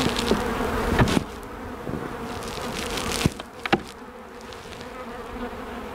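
Honey bees buzzing inside a hive box, a steady close hum with some sharper knocks and rustles partway through.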